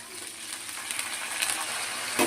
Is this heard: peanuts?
yes